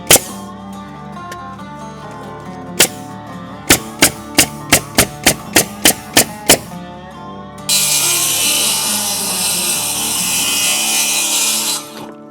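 A power saw cuts a sheet of material in place during a house renovation, preceded by a run of sharp, evenly spaced knocks, then a loud, steady whine of the blade close by.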